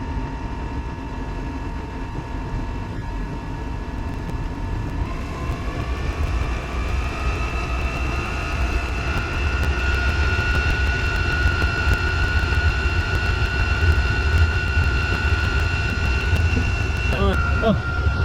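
A Chinese PT-5 diesel heater runs with a steady broadband roar, its fan pitch audibly climbing partway through and then holding at a higher whine, loud and continuous.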